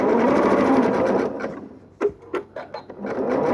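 A sewing machine sews a zigzag stitch along a quilt's final border, a close, steady whirr for over a second that then slows into a few separate clunks and short bursts before running on again.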